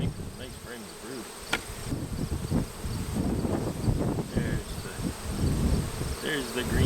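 Honeybees buzz in a dense, steady swarm around an open hive during a summer inspection, with a continuous drone and occasional louder passes close to the microphone.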